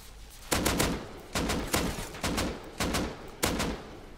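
Automatic gunfire from auto turrets in the video game Rust during a base raid: about six loud, sharp bursts of rapid shots, each roughly half a second long, repeating at fairly even intervals with no talking.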